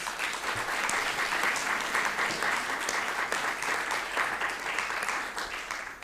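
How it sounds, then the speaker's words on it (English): Warm round of audience applause at a leadership talk on career setbacks, a fairly quiet but continuous wash of clapping from a room full of listeners, holding steady before easing off at the end. "Can we give Kike another round of applause?"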